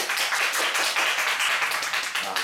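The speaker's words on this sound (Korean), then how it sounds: "박수 부탁드립니다" An audience at a workshop gathering claps in a dense, lively burst of applause, many hands close and continuous for a couple of seconds.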